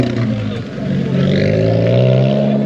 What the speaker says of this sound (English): That stock exhaust sounds really good, man.